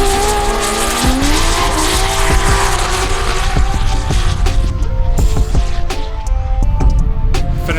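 GTR drift car at a drifting competition at Manfeild, loud continuous engine roar with tire squeal and skidding throughout, sharp gear-change bursts over a dense racing din.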